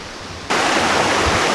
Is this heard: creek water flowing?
yes